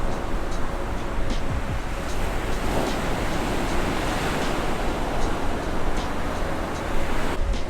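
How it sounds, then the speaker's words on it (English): Ocean surf at a beach in Pensacola rolls in a steady, loud roar that fills the whole stretch, broad and continuous with slight swells, and no voices are heard. "Can you hear the waves roar?"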